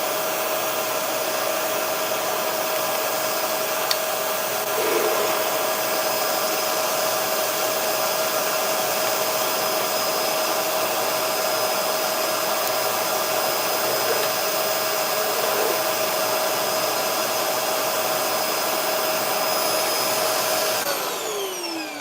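A Bosch vacuum cleaner running continuously at close range, a loud, steady high-pitched whine with a constant motor tone, winding down near the end.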